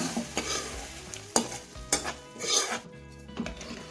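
A pot of green gram lentil curry bubbles and sizzles close by while a metal spoon stirs and clanks against its sides in several sharp, uneven knocks.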